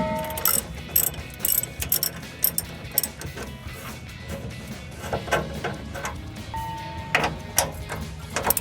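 A 15 mm socket wrench removing rear bumper bolts on a RAM 1500, rapid ratcheting clicks in repeated bursts up close, with metallic clinks between strokes.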